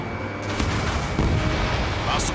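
Missile launch and impact in the Ace Combat 7 flight game, a continuous loud roar with a deep booming rumble and crackling blasts, rising at the end into a bright whoosh.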